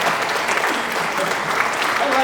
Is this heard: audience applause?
yes